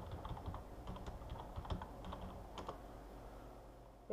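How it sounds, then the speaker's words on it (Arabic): A computer keyboard clatters as a chat message is typed: a rapid, irregular run of quiet, close clicks and taps that pauses briefly near the end, with no voices. "الان نكتب الدردشة"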